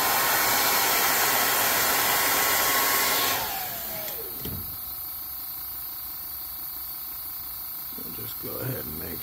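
A heat gun blows hot air over airbrushed paint on a fishing crankbait, a loud steady whooshing drone that cuts off after about three seconds and winds down, leaving faint handling noises and brief talk.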